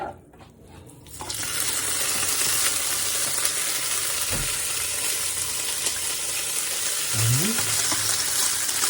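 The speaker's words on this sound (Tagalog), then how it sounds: "So i-fry muna natin yung turkey at saka yung egg." Turkey and egg fry in olive oil in a pan, giving a loud, continuous crackling sizzle up close after a quiet start, with a couple of brief utensil scrapes partway through.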